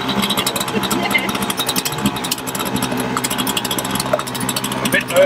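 A small motor on a compact boat tender runs steadily and loudly throughout with a buzzing, rattling drone, while people talk faintly beneath it.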